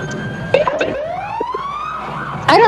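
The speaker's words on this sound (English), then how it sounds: "It's the lights and sirens till Santa shows up." Emergency vehicles with lights and sirens roll through a Christmas parade in Roxboro, giving rising wails and short yelps amid crowd noise, loud and fairly close.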